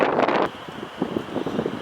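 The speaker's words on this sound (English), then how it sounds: "the wind has been blowing so hard" Strong wind buffets the microphone outdoors at a farmhouse, a loud rushing roar that drops to a lower, gusty rumble partway through.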